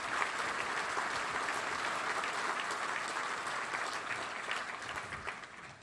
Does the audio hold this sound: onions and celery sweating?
no